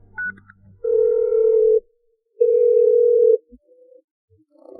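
Two long, steady telephone tones sound one after the other with a short pause between them, clear and close in an otherwise quiet room, ending with a few faint clicks and noises.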